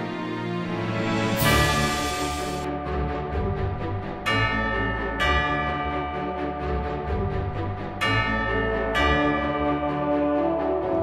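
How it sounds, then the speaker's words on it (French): A bell at National Taiwan University rings out repeatedly with bright, sustained tones that overlap and fade between strikes, joined by other sounds in the background. "Le son cristallin de la cloche résonne aux oreilles"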